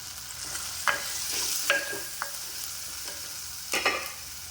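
Tomato masala with turmeric and chili powder being stirred in a pan for a fish curry: soft steady sizzle broken by several sharp spatula scrapes and clinks, close up with no voices.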